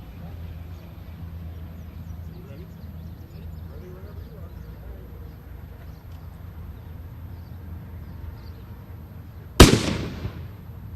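A fire department line gun fires a brass projectile with a single sharp, loud bang near the end, a brief ringing decay following a long stretch of low background rumble.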